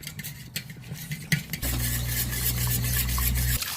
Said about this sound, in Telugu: ఒక బౌల్లో పెరుగు వేసుకున్నాము చిలుకోవాలి